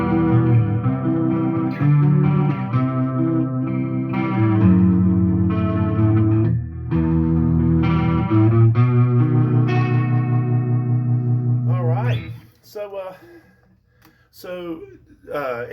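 An Epiphone Explorer electric guitar, a '58 model, played through an effects setup with chorus, sustained reverberant chords and notes ringing loud, then fading out as a voice starts talking near the end.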